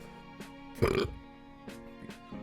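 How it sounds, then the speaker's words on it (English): A single loud, low burp bursts out near the mic, lasting about half a second, with faint background noise and brief murmurs around it. "I just burped and threw up in my mouth"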